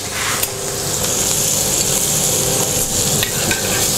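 Scallops frying in a pan with butter, crushed garlic and thyme: a loud, continuous close sizzle with occasional light scrapes and taps of a utensil against the pan.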